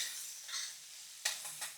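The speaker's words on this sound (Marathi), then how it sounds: "आता टोमॅटो आणि आलं लसूण पेस्ट कांद्यासोबत अजून एक दोन तीन मिनटं परतूया" Tomato and ginger-garlic paste sauté with onion in a pan for a dried Bombay duck masala, making a faint, soft sizzle broken by two or three quick stirring scrapes near the end.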